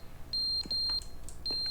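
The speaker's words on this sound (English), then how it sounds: "Is that a smoke alarm?" A smoke alarm chirps in sharp, high electronic beeps, three short bursts in quick succession, fairly loud over faint room noise.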